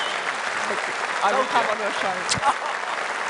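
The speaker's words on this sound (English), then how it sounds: "Round of applause." Supporters at a political rally in Birmingham applaud in a steady, crowd-wide wash of clapping, with someone talking over it throughout.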